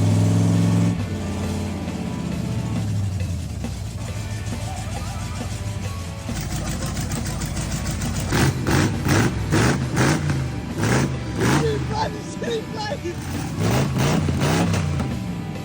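A Holden 308 V8 runs at a steady elevated idle during cam break-in, a loud continuous rumble, then gets several quick throttle blips, each revving up and falling back in rhythmic bursts, heard up close.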